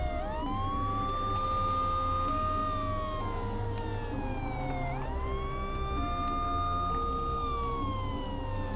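Police car siren in the video game Schedule 1 wails steadily, rising and falling in long sweeping cycles, loud and continuous over a low engine-like drone, with no talking.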